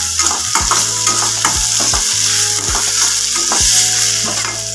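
Green chili and finely chopped tomato sizzle steadily in a hot pan while a spoon scrapes and stirs in quick repeated strokes, close and loud, with no talking.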